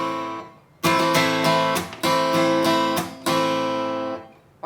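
Up-close guitar strumming in a down, up, chuck, up pattern from a song, bright chord strokes broken by short muted chucks, repeating without any voice.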